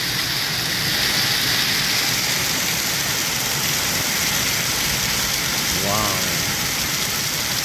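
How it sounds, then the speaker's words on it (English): Massive hailstorm with large hailstones pounding down, a dense loud roaring clatter that fills the whole clip without a break; a person exclaims once near the end. "That is some massive hailstones."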